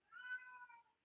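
A ginger cat gives a single drawn-out meow of about a second, fairly close and moderately quiet, with no talking over it.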